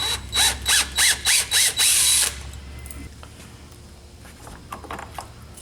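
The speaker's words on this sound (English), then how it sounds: "So you just take the hinges off, like I say, one at a time." A power drill backing screws out of a door hinge: six short, loud whirring bursts in quick succession, followed by quieter handling noise.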